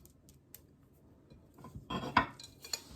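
Chocolate chip biscuit dough with milk chocolate chips being stirred in a bowl, giving soft scraping and a few clinks of utensil against the bowl that grow busier toward the end, close and fairly quiet.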